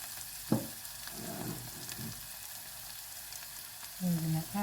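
Onions frying in butter and brandy in a pan for a peppercorn sauce, a quiet steady sizzle with a sharp knock early on and faint stirring.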